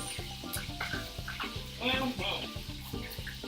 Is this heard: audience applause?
no